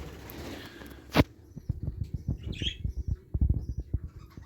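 Budgies in a breeding room aviary, with a burst of chirps and squawks over a run of rapid, repeated clicks and taps, plus one loud sharp knock early on.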